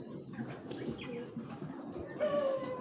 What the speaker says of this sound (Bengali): হ্যাঁ, কবুতরটা দেখেন